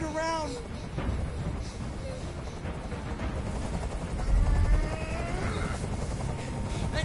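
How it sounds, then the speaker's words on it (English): Sustained helicopter rotor drone from the video game Detroit: Become Human, a steady broadband thrum filling the scene while game characters talk over it. "I can't stand that noise anymore. Tell that helicopter to get out of here."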